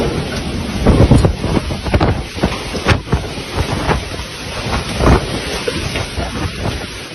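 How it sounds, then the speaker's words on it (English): Straight-line winds of a downburst storm in Lombardy, Italy, a loud roaring rush with rumbling gusts and buffeting bursts that swell and ease throughout. "downbursts manifest themselves with straight winds that are just as destructive, but often more subtle because they strike suddenly and without the usual warning signs"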